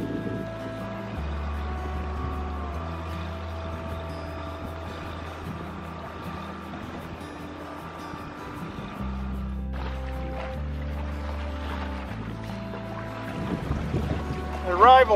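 A steady engine drone with low rumbling tones as a capsized boat is towed in through water near Padre Island, continuous and moderately loud throughout.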